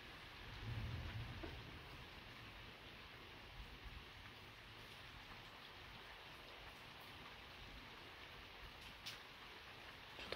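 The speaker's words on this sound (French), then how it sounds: "Ah, la pluie se calme." Rain falls steadily during a strong nighttime electrical storm, with a low rumble of thunder early on, then a softer continuous patter of drops on surfaces.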